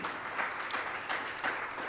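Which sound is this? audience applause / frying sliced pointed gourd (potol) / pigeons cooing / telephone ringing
audience applause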